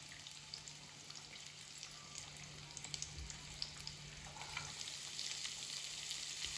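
Onion fries in oil in a pan for chicken pasta, producing a steady crackling sizzle that grows slightly louder toward the end, with a faint low hum underneath and no speech.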